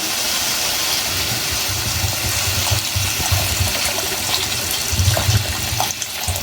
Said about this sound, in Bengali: এখানে আমি পরিমাণ মতো পানি অ্যাড করলাম।